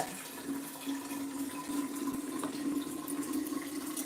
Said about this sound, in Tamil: தண்ணி ஆஃப் பண்ணு இங்கே பாரு எல்லா பக்கமும் தெரிக்குது பாரு